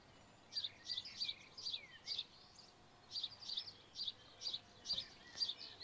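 A small bird chirps outdoors on an evening, in repeated short bright calls that come in two quick runs separated by a brief pause, fairly faint and clear against quiet background with no voices.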